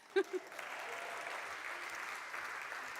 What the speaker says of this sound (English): And yes, you can cheer for that.